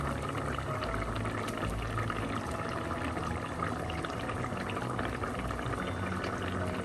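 Mackerel fish head chilli curry simmering in a pot, a steady low bubbling and gentle sputtering that continues without pause, close and fairly quiet, with no talking.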